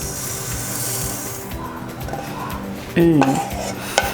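Roasted moong dal (hesaru bele) poured into a pressure cooker with rice while making Iyengar-style sakkare pongal, a steady rattling patter of grains against metal with a brief louder clatter near the end.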